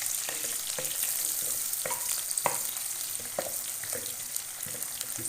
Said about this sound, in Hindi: ये देखें माशाल्लाह आहिस्ता आहिस्ता प्याज ब्राउन हो रहा है।